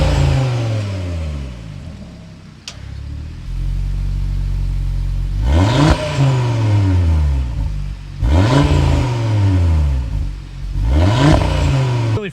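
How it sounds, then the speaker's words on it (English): A 2026 Audi RS3 barks out loud, close revs from its exhaust. Several sharp throttle blips rise and fall over a deep, rumbling idle. "so you can hear that exhaust note"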